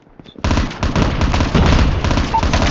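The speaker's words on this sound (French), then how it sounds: "On va utiliser la grenade. Grenade out!" A grenade explodes in a first-person shooter game: a sharp blast followed by a dense burst of gunfire-like crackle and rumble. It is loud and sustained, with game voices mixed in.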